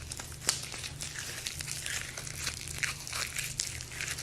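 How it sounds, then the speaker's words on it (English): Leather clothing crinkles and creaks in faint, irregular bursts of crackly rustling over a low background hum, with one sharper crunch early on. "And you could just hear that crinkling."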